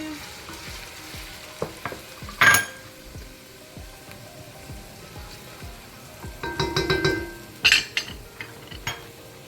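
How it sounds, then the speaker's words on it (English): Chopped onion frying in hot sizzling oil in a pot on the stove, a steady crackling sizzle broken by a few louder bursts of spattering and occasional stirring clinks, with no talking. "So I am gonna pour my onion here on my pot. My oil is sizzling here."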